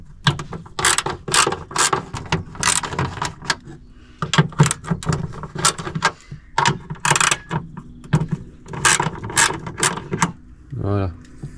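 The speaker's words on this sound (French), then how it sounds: "vous prenez une douille de 8 avec une clé à cliquer et une petite rallonge si vous voulez" Ratchet wrench with an 8 mm socket loosening the tail light nuts on a BMW E39, clicking in quick, close bursts separated by short pauses across the whole stretch.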